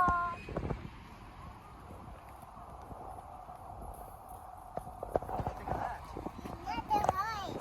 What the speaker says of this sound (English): let's go check out this horse